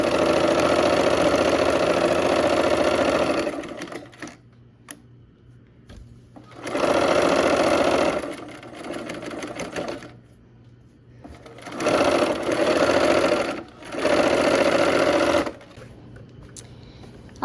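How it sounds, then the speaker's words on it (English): A sewing machine stitches a quilt seam in several loud, steady bursts of rapid mechanical whirring, with quieter pauses between them. "now we're going to sew our last seam"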